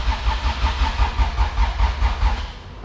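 A Honda engine in an all-motor EF hatch cranks over on the starter during a priming start attempt, a loud, close, rhythmic chugging that pulses steadily for a few seconds.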